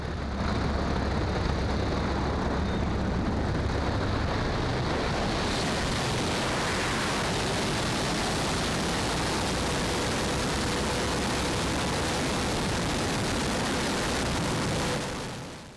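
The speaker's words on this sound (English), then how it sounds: "we literally pull the aircraft until it has no lift left and it falls from the sky spinning" Training aircraft in a spin manoeuvre, heard from inside as a loud, steady roar of engine and rushing air that holds unbroken for about fifteen seconds before tailing off at the end.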